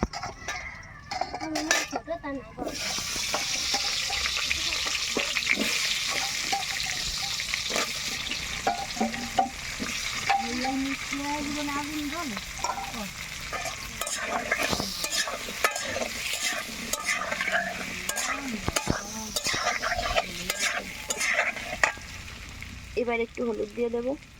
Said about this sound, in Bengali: তেলে আলুগুলো ভেজে নেবো লাল লাল করে